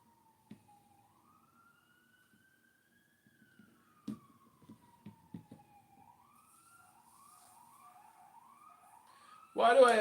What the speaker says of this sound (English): As you can hear, the police sirens are flying all around.